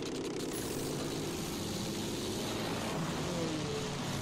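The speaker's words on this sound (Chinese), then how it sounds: "下面有一台飞机。" Airplane engine in Battlefield 1, a steady droning propeller roar that holds evenly for the whole stretch, broad and fairly close, with no talk over it.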